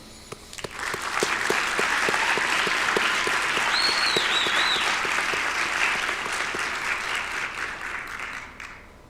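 Steady, loud applause from a large audience at a winter commencement ceremony, swelling quickly and holding for several seconds before thinning out, with no speech over it.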